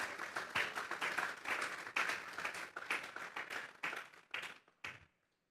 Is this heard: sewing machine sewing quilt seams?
no